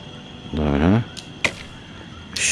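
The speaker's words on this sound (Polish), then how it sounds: "zaraz zaczynamy z łuku, jak się strzela" A bow loosing an arrow in the video game Walking Dead Saints & Sinners, heard as a short twang followed by a sharp thwack a moment later, moderately loud with no talk over it.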